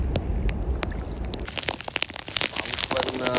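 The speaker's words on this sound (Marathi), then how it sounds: "पाऊस पण फुल जोरात लागलो आणि पाणी पण बराच पडला." Heavy rain pelting a fishing boat at sea during a storm, a dense wash of spattering drops with gurgling water and crunchy knocks, loud and close throughout.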